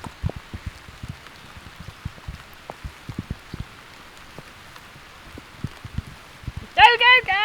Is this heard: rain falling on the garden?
yes